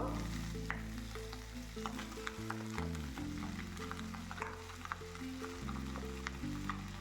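Ash gourd pieces fry in a pan seasoned with panch phoron, a quiet, even sizzle broken by repeated scraping stirs and small clicks of a spatula, with a low hum underneath.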